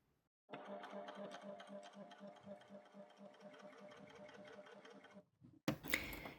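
A coverstitch sewing machine stitches a neckband binding, running as a steady fast mechanical patter of needle strokes for about five seconds, starting and stopping abruptly, close and alone with no talk.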